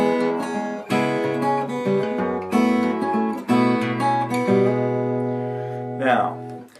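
An acoustic guitar plays a picked fill from a song, a close, clear run of plucked notes and chords ringing out in a steady rhythm, with a brief spoken word near the end.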